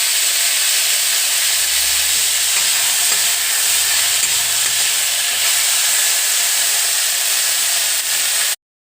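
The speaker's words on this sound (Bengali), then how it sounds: "ফোড়ন দিয়ে ডাল সবজিটা একটু ভেজে নেব" Dal and vegetables frying in a pan with tempering spices give a steady, loud hiss and sizzle that runs unbroken for about nine seconds, then cuts off abruptly.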